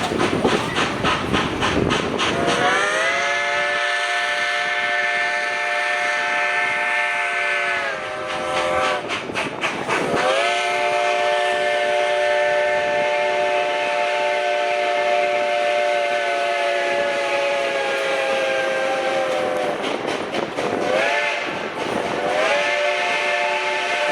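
A 4-8-4 Northern steam locomotive hauling a Reading, Blue Mountain and Northern excursion train out of Jim Thorpe, its steam whistle blowing long sustained blasts again and again over the steady rumble and clatter of the cars.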